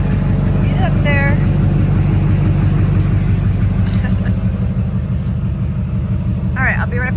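A truck pulling a trailer drives along with a constant loud engine rumble and road noise from inside the cab, with a few faint squeaks and rattles.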